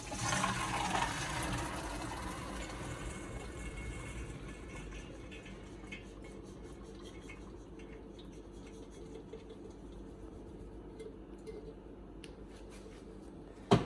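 Water pours and gurgles as it drains through a strainer in a kitchen, loudest at first and then settling into a quieter trickle, ending with a short clatter.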